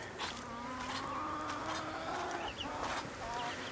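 Chickens cluck in scattered bursts close by, their short calls repeating over a soft, buzzing outdoor background.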